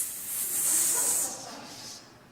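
A person's voice imitates a lizard's hiss: one breathy, sustained hiss lasting about two seconds, swelling and then fading, with a quiet room behind it.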